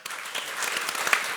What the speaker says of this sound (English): really big warm up applause to our performers.